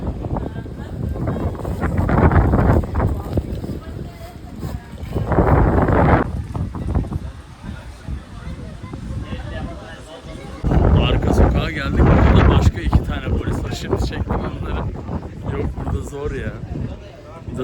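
Strong wind buffeting a microphone outdoors beside a camper van in Amasya, coming in loud, rumbling gusts of roughly two to four seconds between calmer stretches, with people talking faintly underneath.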